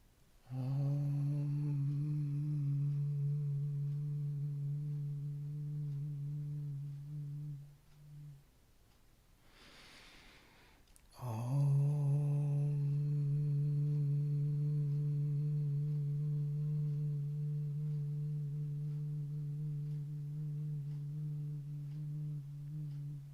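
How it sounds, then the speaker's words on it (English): A group chants a long sustained Om together, a steady droning hum that breaks briefly for a breath and then swells again at full strength, close and resonant with no speech. "breathe in and then sound the Om"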